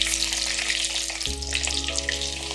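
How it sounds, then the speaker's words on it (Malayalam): Mustard seeds crackling in hot oil for an Indian gooseberry (nellikka) pickle, a continuous bright sizzle with scattered small pops over a low steady hum that shifts pitch midway. "കടുക് പൊട്ടി തുടങ്ങിയിട്ടുണ്ട്"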